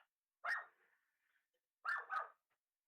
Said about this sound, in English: She's barking at the strangers across the street walking.